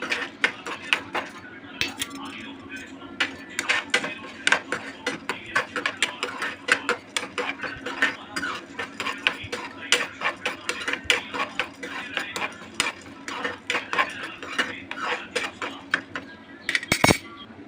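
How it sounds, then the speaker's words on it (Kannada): Roasted gram (putani) being dry-roasted in a metal pan, stirred constantly: a steady run of quick scraping and clinking of spoon on pan, with a rattle of the dry grains and a louder knock near the end. "ಒಂದು ಬಟ್ಲಾಗಷ್ಟು ಪುಟಾಣಿನ ತಗೊಂಡು ಅದನ್ನು ಚೆನ್ನಾಗಿ ಹುರ್ಕೊಳ್ತಾ ಇದ್ದೀನಿ"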